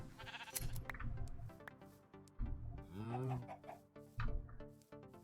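A Minecraft sheep bleats in the modded game, a wavering bleat among other farm-animal sounds at a moderate, somewhat soft level.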